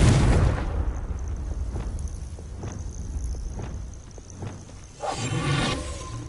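A Confringo blasting spell goes off as a loud, broad burst at the start, followed by rumbling debris and scattered impacts and thuds, with a second swell of noise near the end.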